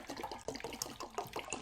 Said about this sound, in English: That's the sound of pouring happening.